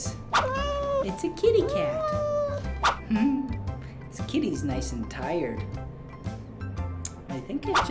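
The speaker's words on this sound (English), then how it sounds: "It's a kitty cat." A cat meows repeatedly at a zoo, several drawn-out rising and falling cries heard up close, mixed with a voice and adult talking over and between the calls.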